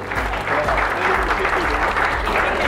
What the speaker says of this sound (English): And a round of applause, ladies and gentlemen.